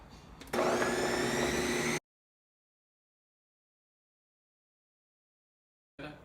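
A blender grinds a chickpea meatball mixture with olive oil in a loud, whirring burst of about a second and a half, then cuts off into silence before a brief noise returns at the end.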